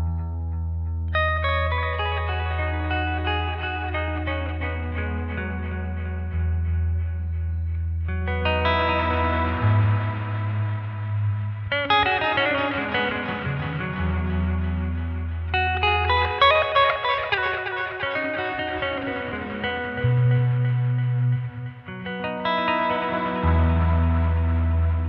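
An electric guitar plays sustained chords and phrases through a delay pedal emulating an Echoplex EP3 tape echo, each note repeating and trailing off in hazy, wobbling repeats.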